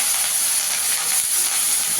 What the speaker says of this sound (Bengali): এখানে কড়াইতে তেল দিয়ে দিয়েছি তেলটা গরম হয়ে গেছে মাছগুলো ভেজে নেব